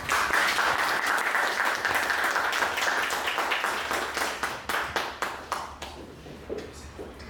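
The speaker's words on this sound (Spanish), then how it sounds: "Pido un fuerte aplauso y demos la bienvenida a nuestra ponente" Audience applause at a conference in Tijuana welcoming a speaker, a dense sustained round of clapping that thins out into scattered individual claps near the end.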